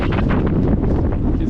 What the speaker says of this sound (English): there is, oh my god, absolutely nothing to break up the wind for hundreds of thousands of square kilometers